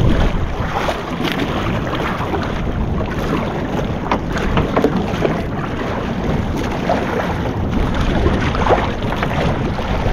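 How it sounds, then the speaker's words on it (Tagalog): Rough sea with strong waves surges around a small fishing boat out on open water, giving a continuous rushing wash over steady wind buffeting the microphone, loud and close, with no voices. "Ang lakas ng alon."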